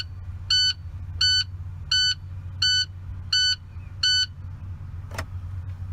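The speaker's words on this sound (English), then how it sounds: "push this panel light and your message light button at the same time for 7 seconds, and it will actually stop that from beeping" Warning beeper on a truck dashboard with an Eaton shifter fault, sounding six evenly spaced, loud electronic beeps about once every 0.7 seconds over a steady low engine idle, followed by a brief click.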